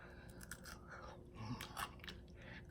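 Close, crunchy bites and chewing on a gravy-covered french fry from homemade poutine with cheese curds, a few soft crunches and wet chewing sounds over about three seconds, with no talking.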